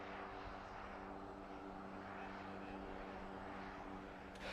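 A parked airplane's engines drone steadily and loudly at an airport before boarding by air stairs, a continuous even roar with no break.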